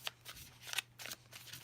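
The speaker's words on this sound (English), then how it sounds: "Let me shuffle it like that." A deck of tarot cards being shuffled in quick riffling bursts, four or five crisp rustling sweeps close by, with a faint low hum underneath.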